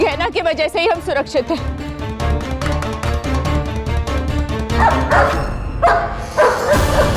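A dog barks and yips repeatedly at close range, loud and agitated, while someone speaks over part of it in a television drama scene.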